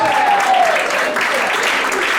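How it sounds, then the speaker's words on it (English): Loud, dense applause from a crowd fills the whole moment, steady and close, with a brief whistle or tone sliding down at the start. "Let's give Randy a big round of applause."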